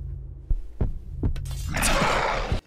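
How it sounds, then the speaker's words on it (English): Heartbeat sound effect during a video game boss fight, a few deep thumping beats at an uneven pace under a low hum, followed by a rising rush of noise. "The heartbeat!"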